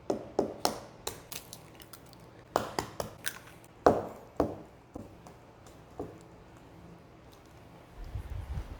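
Two eggs cracked one at a time into dry chocolate chip cookie dough, heard as a series of sharp, close taps and cracks spaced irregularly, followed by quieter knocks and a low rumble at the end.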